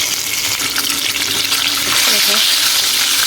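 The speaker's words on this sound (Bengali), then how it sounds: "সবগুলো ডিম এক এক করে ভালোভাবে ভেজে নেব।" Eggs fry in a pan with a little turmeric, giving a loud, continuous sizzle and bubbling crackle that swells slightly toward the end.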